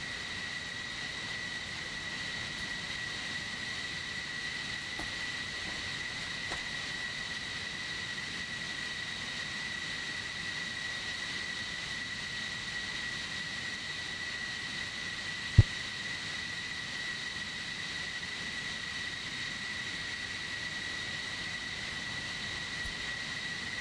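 An F-14 jet's engine drones steadily in a combat flight video game, a continuous, even roar with a faint high whine held throughout and one brief sharp click midway.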